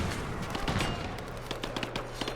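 Gunfire from a battle in the video game Rise of the Tomb Raider: a dense, continuous clatter of overlapping shots and sharp bursts, loud and sustained across the whole moment.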